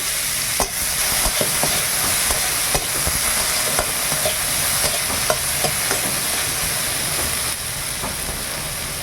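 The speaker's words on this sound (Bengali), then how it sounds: "এবার উচ্ছাটা ভেজে নেব" Salted, turmeric-coated bitter gourd fries in a pan with a steady, close sizzle, punctuated by occasional light clicks and taps of stirring throughout.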